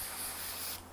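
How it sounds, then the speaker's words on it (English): A short, soft hiss of isopropyl alcohol sprayed from a spray bottle during a cleaning job, one brief burst that cuts off near the end, with a faint fan hum underneath. "I'll spray a little bit there."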